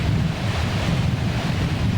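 A short, powerful river drains mountain lakes and rushes through a rock canyon it has carved along the Chilkoot Pass route, giving a steady, loud, broadband roar with heavy wind buffeting the microphone and no voices.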